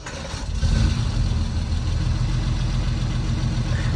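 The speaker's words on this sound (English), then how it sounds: "let's fire this car up" A Grand Prix white car with a rebuilt engine starts up, rising quickly into a deep, steady idle that rumbles on close by and loud, with no voices.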